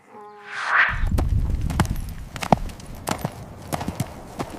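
Donkey hooves clop on hard ground at an uneven walking pace, a string of sharp, moderately close knocks with a few louder strikes over a soft background.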